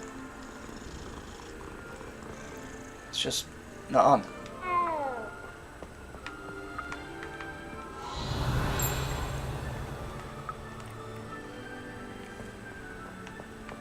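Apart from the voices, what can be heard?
cat purring and meowing while petted in Hogwarts Legacy video game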